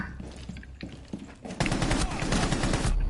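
Gunfire in a ranked Rainbow Six Siege match: a few scattered shots, then a loud, dense automatic burst lasting over a second, close and continuous until it cuts off.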